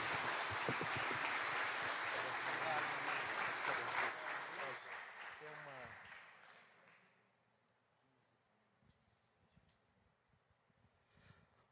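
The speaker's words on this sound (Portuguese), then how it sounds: "o apóstolo Almir aplaudindo ao Senhor nessa manhã, em nome de Jesus." Loud sustained applause from a church congregation during a morning service for several seconds, gradually fading out into quiet room tone with a few faint sounds.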